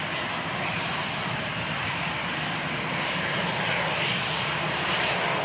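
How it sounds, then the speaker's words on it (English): EasyJet jet airliner arriving from Malaga at Manchester Airport, a steady, loud broadband engine roar that holds evenly throughout with no breaks and no voices over it. "It's EasyJet in from Malaga"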